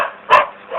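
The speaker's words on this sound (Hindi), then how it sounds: "अरे ये कुत्ता रो क्यों रहा है?" A single short, mournful dog howl or whine rises briefly in the middle of a radio drama scene, close and fairly loud against a quiet background.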